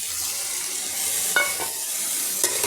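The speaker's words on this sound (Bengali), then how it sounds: "এবার এই সয়াবিনটা আমি ভালো করে নাড়াচাড়া করে মশলার সঙ্গে একটু ভেজে নিচ্ছি" Boiled, drained soybean chunks stirred and fried with ground spices in a pulao pan: a steady soft sizzle with a few sharp scraping stirs, close and fairly loud, no voices.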